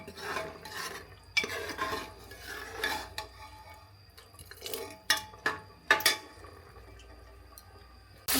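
Chickpea ghugni cooking in a pot, with repeated close scraping and clinking of a spoon against metal while stirring, irregular bursts over a quiet background simmer.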